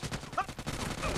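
Rapid gunfire from the PUBG Mobile battle royale game, a dense run of shots across the short span, with a raised voice calling out briefly over it.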